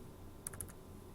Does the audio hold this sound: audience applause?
no